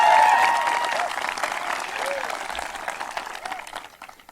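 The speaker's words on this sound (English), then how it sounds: "you can give her a round of applause" Applause from the audience at a high school graduation ceremony swells loudly at first, then continues as a dense, steady clatter of many hands that slowly fades, with a few faint voices mixed in.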